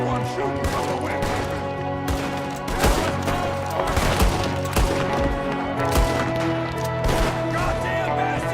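Red Dead Redemption 2 gunfire crackles as repeated sharp shots over a droning musical score, scattered irregularly across the whole stretch, loud and close.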